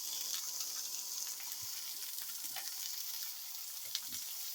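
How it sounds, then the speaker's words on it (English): Steady, continuous sizzling of venison frying in a pan, a bright crackling hiss with occasional pops, fairly close and constant throughout. "look at that sizzle sizzle"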